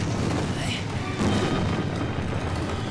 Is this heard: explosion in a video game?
yes